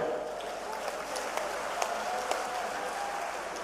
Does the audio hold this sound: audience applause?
yes